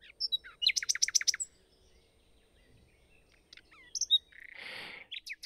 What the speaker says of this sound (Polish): Wtem słowik zaczął śpiewać.